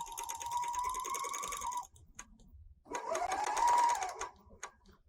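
A serger stitches a rolled hem along fabric with a fast, steady mechanical whir. It runs for nearly two seconds, pauses briefly, then starts again for another burst, close and fairly loud.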